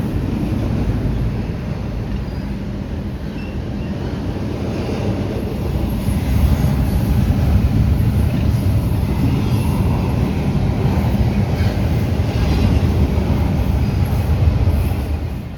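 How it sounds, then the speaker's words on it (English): Steady, continuous rumble of two intermodal freight trains passing each other close by, with heavy low-end clatter and some wind buffeting, no voices. "this is what an intermodal passing an intermodal looks like."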